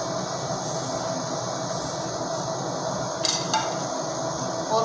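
Vermicelli frying with coconut in a pan for dry sawaiyan gives a steady sizzling hiss, with a couple of brief clinks of a utensil against the pan near the end.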